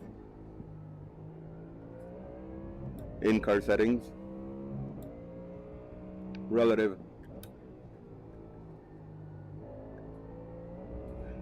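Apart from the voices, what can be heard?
Ford Mustang race car engine revving during practice laps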